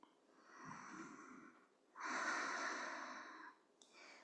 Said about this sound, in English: Listen to your breathing.